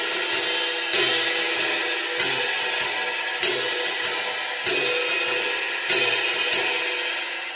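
Jazz drum kit playing a groove with accents on beats 2 and 4, the hi-hat closing with the left foot in the same rhythm; dense, bright cymbal wash with regular strong accents recurring about every second, close and loud.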